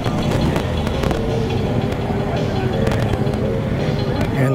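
A BMW RT touring motorcycle rolls in among a gathering of riders, its engine a steady close rumble mixed with other bikes and crowd noise, with sharp clicks and knocks scattered throughout.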